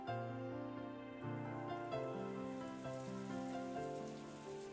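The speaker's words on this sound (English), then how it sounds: "As Angie slept, she was wrapped up in the soft sound of the rain." Soft steady rain from the Umineko video game, a gentle continuous patter heard under sustained, slowly changing musical tones throughout.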